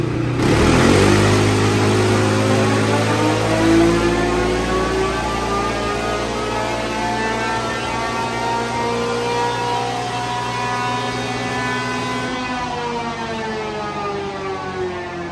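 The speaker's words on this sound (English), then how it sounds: "We've been warming up the engine," A Gen 1 CFMOTO CFORCE 400 ATV engine runs steadily while warming up, a loud sustained drone with a whining tone that holds level for about twelve seconds, then eases slightly near the end, with no voices.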